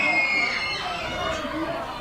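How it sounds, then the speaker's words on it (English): An independent wrestling event crowd cheers and chatters steadily throughout, a dense roar of voices at moderate distance with no single voice standing out. "I say the crowd's pretty excited about that"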